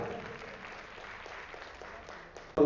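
An audience applauding at a gathering, a soft, steady patter of many hands heard from a distance, ending with a brief louder clatter close by.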